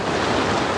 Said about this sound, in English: Some waves right there.